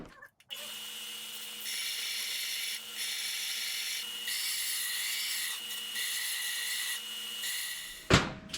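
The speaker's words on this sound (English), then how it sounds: "I'm going to bevel this edge so that we can get a nice good weld onto the turbine housing" A power tool grinds a bevel onto the edge of a metal down pipe before welding it to a turbo's turbine housing, a steady close whining abrasion lasting several seconds with shifts in pitch, then a short scrape as it stops.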